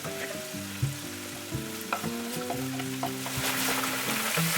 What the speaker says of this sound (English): Set your stovetop to medium heat and add the chopped bacon.